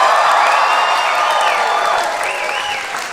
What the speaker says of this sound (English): give us a big round of applause if you've ever heard our show Do Go On before